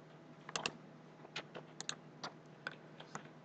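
Computer keyboard typing during copy-and-paste work in PowerPoint 2007: quiet, scattered clicks and short bursts of keystrokes separated by brief pauses, with no voices.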